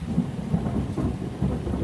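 A thunderstorm over a forest, with steady rain and a low, continuous rumble of thunder filling the background, no voices.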